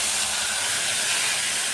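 Grated tomato hitting hot oil in a pan gives a loud, dense sizzling hiss that stays steady and close for the whole short stretch.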